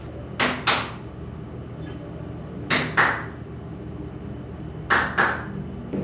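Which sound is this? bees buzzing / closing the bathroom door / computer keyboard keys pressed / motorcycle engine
closing the bathroom door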